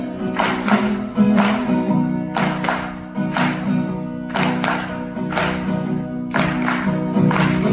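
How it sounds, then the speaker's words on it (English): Concert audience at a band's live set on the Cayamo 2024 cruise clapping along in a steady rhythmic beat to a song, with the band's music and vocals playing loudly underneath. "Y'all feel like clapping a little bit?"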